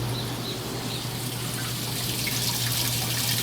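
Water pours steadily into a washing machine filling for its rinse cycle, a continuous close rushing and trickling with a low mechanical hum beneath, no voices.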